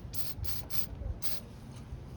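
Four short hissing bursts of CRC throttle body cleaner sprayed into the throttle body of a 2.4L Chevy Equinox/GMC Terrain, fairly close and quiet, with faint mechanical handling noises between them.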